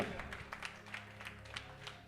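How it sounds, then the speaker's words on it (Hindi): A church congregation claps in thanks during a pastor's sermon, with scattered, uneven claps at a moderate distance and murmuring voices underneath. "ताली बजा के धन्यवाद करेंगे"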